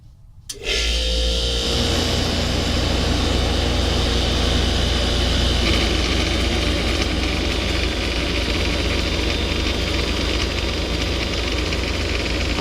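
A 1994 DeLonghi 40 pint dehumidifier starts up in a basement, its fan motor settling into a steady, loud hum with a low rumble and constant broadband whir that runs unbroken to the end.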